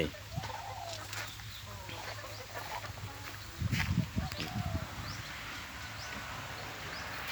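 Hen clucking in short bursts amid farmyard bird calls, with people talking nearby and rustling movement in the background.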